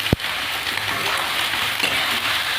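Small fish fry in a pan with nigella seeds, salt, turmeric and chilies, giving a steady, close crackling sizzle after a single sharp knock at the start, with no talking.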